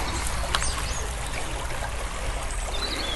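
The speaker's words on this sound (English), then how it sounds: "Little river." A small river flows beside a camping car park area, giving a steady, soft rush and trickle of water throughout, with faint bird calls above it.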